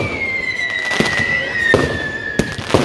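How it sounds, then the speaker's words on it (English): A long descending whistle carries over dense crackling fireworks at a display in Liverpool, including coloured crackles and a three-stage whistling firework, with a few sharper pops breaking through; loud and continuous throughout. "There's one that's doing these coloured crackles, and then there's another one called a 3-stage trouble"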